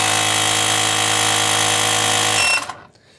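An Everstart Maxx 1200A jump starter's built-in air compressor inflates a tire with a loud, steady mechanical buzz close by, then cuts off abruptly, leaving near silence.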